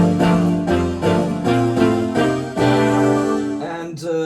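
A custom patch on a Moog One analog synthesizer plays a sequence of rich, sustained harmonic notes and chords, changing pitch about every half second, loud and close with no talking.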